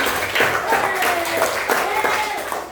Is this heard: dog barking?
no